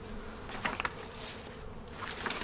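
Bees buzz quietly around garden avocado trees, a faint steady drone with a few brief louder passes close by, alone with no talk.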